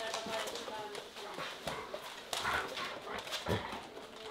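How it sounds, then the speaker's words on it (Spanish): Several dogs in a rural outdoor setting yelp, whine and bark in short scattered bursts, close by and fairly loud, mixed with people shouting over them. "¡Tanto perro!"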